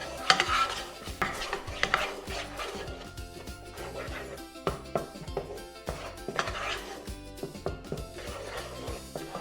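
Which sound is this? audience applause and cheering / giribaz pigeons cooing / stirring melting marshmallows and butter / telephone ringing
stirring melting marshmallows and butter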